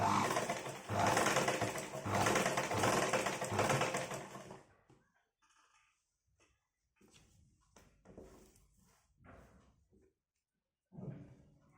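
An electric sewing machine stitches a top in a steady, fast mechanical whir for several seconds, then stops, followed by quiet handling noises and a few short bursts.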